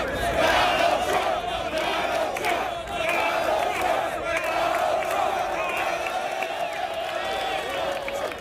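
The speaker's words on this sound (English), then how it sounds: "crowds chanted the president's name" A large outdoor crowd at a golf tournament chants a president's name, a dense rhythmic roar of many voices sustained throughout at moderate distance.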